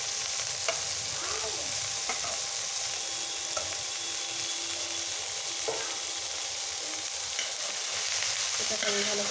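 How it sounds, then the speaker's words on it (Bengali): Chopped coriander leaves frying with garlic leaves in a pan, a steady close sizzle broken by occasional scrapes and clacks of stirring, with no voices. "ধনিয়া পাতা রসুন পাতা ভালো করে আমি ভেজে নিয়েছি"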